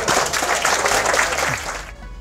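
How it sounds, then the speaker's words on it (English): Festival audience at an outdoor summer gathering clapping, a brief burst of dense applause that holds steady then cuts off, with some voices mixed in. "give yourselves a massive round of applause for being here"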